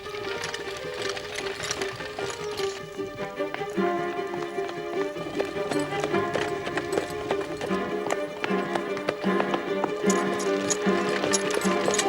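A horse gallops while pulling a carriage, the quick clip-clop of hooves running continuously for several seconds under a swelling dramatic music score.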